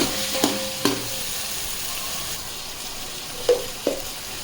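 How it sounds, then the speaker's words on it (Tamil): Onion, tomato, mint and green chillies sauté for chicken biryani, a soft continuous sizzle punctuated by several distinct metallic clinks of a stirring spoon against the pan, close and unaccompanied by talk. "இப்போ நல்லா வதக்கிக்கோங்க"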